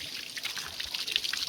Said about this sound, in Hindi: ये पानी आ गया, यहाँ से पानी का बहाव